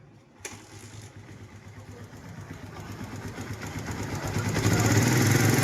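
A motorcycle engine with only 13,000 km on the odometer runs close by with a steady idle that rises in loudness toward the end, a ticking, knocking clatter audible through the running.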